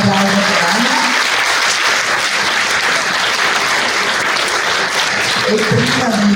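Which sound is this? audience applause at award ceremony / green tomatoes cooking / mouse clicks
audience applause at award ceremony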